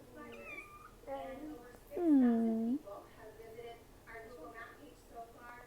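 A young kitten meows repeatedly in a series of short, high cries, with one louder, drawn-out meow in the middle, close by and clear.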